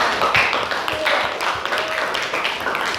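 Classroom of students clapping hands together, a dense, close patter of claps lasting a few seconds with no talk.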